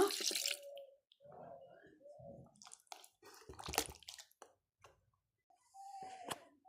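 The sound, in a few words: adding a little water while cooking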